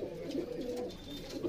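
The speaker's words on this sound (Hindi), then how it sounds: "काफ़ी अच्छे कबूतर हैं जी" Pigeons in a breeding setup cooing steadily, a soft, continuous low warble at close range with no voices over it.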